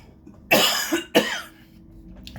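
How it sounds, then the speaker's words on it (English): A person with a long-standing recurring cough gives two harsh, close coughs in quick succession. Each is loud and raspy and followed by a short wheezy tail, and the coughs stand alone in an otherwise quiet room. "I just have a recurring cough"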